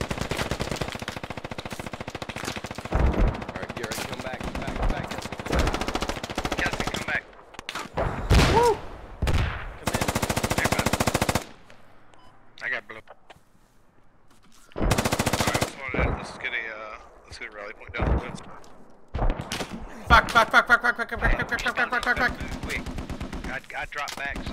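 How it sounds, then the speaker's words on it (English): Gunfire in the military shooter Squad, with bursts of automatic fire and single shots in irregular clusters, loud and near, broken by short quiet gaps, with players talking at times. "Shots coming from the southwest."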